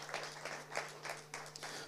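Scattered applause from the audience at the draw ceremony for the IBSA Men's Blind Football World Grand Prix 2024, fairly faint and uneven, rising in small bursts over a steady low hum.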